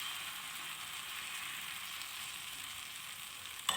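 Malpua batter frying in melted ghee gives a quiet, even sizzle that holds steady throughout, with one short clatter right at the end.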